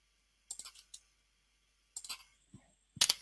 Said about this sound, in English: I don't think it's my keyboard, I think it's my typing.